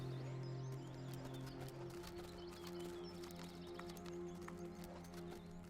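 Horses walk at an unhurried pace in a radio drama scene, their hooves making a steady clip-clop over a quiet outdoor backdrop with faint bird calls.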